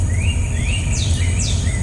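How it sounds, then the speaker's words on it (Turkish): A forest birdsong ambience plays from the infotainment system of a Hyundai i20, with bright rising chirps and whistles repeating over a low, steady cabin rumble. "Canlı orman, kuşlar."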